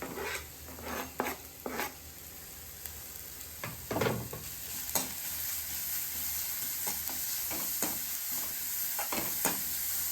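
Onion and garlic sauté in oil for a momo filling, with a constant quiet sizzle and irregular scraping strokes of a spatula against the pan, close up and without talk.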